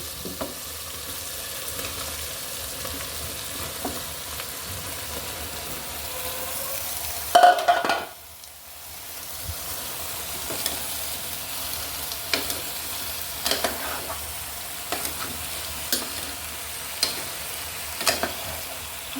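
Bottle gourd pieces sizzle softly in a pan of well-fried spices, with a spatula scraping and stirring at intervals and a brief louder clatter partway through, and no voices.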